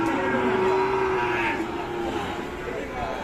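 A bull at a busy rural cattle market gives a drawn-out low moo, close and fairly loud, while people talk and market noise continues around it.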